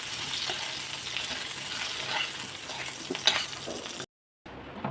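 Tomatoes and garlic cloves sizzle steadily in hot oil in a pan for chutney, a constant close crackling hiss with a brief clink, then a short cut to silence before the frying resumes.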